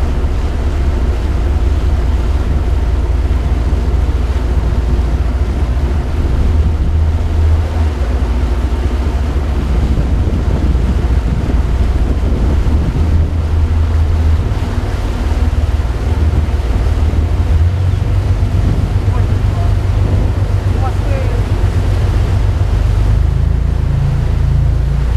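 A boat cruises over open water, a loud continuous rumble of engine and hull mixed with wind buffeting the microphone and rushing waves, steady throughout with no voices.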